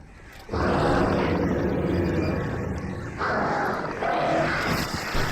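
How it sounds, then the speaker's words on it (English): A sudden flock of birds bursts into harsh cawing and flapping in the dark woods of Alan Wake Remastered, starting abruptly and loudly, then rising again in a second surge over a low ambient rumble. "those birds literally just scared the hell out of me"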